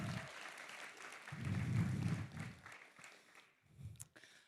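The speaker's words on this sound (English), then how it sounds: "So a big round of applause to everybody for making it here and for coming all this way." Audience applause at the 39th Congress of the European Greens in Dublin, with bursts of clapping that rise, fade and swell again, fairly distant in a large hall, with no talk over it.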